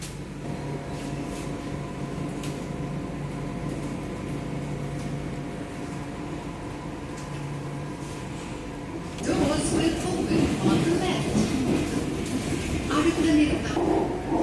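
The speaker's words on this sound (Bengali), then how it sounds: "এখনই মেট্রো চালু হয়ে যাবে।" A Chennai metro train pulls away after its doors close, a steady hum and rumble that swells louder and rougher partway through as the train gathers speed, with background noise throughout.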